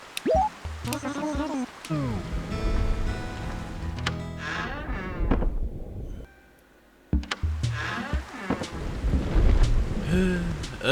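Rain and rolling thunder from the Animal Crossing video game play alongside game music and chimes, broken by a short hush, while a person talks over it.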